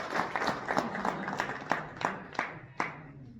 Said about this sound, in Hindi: इसलिए बहुत जोरदार ताली और स्वागत करें